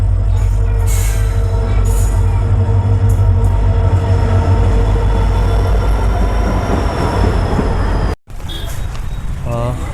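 A train rumbles loudly into Baliapara station, a heavy continuous roar of wheels and wagons with high metallic squeals, broken by a brief sudden drop near the end before the rolling noise resumes.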